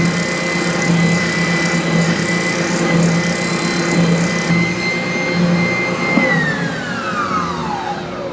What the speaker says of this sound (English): Now I'll just finish sanding this back part here, this little cutaway contour